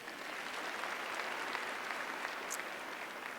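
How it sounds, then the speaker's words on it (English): A large crowd at a university fall commencement in North Carolina breaks into a steady, even round of applause, many hands clapping at once from a distance and holding at constant strength throughout. "Other round of applause would be great"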